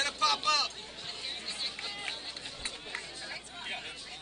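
Crowd at a high school baseball playoff game, a loose babble of many voices chattering and calling out from a distance, with no single shout standing out.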